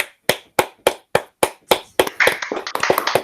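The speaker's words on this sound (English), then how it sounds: "Another round of applause for Mike" A few slow, evenly spaced single claps open, then several more people join in a brief, close round of applause for a speaker after a Laravel Jetstream Q&A.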